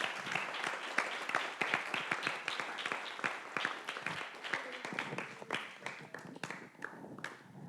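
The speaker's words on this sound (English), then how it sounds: "I think the claps already did it" Lecture hall audience applauding at the close of a machine learning class on quantum matter, a steady wash of many hands clapping for several seconds, fairly distant, with a few faint voices underneath.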